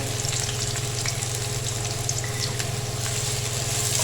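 Two chopped onions sautéing in a generous cup of oil in a karahi, a steady dense sizzle with soft crackles running evenly and close throughout.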